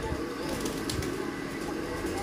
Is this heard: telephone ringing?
no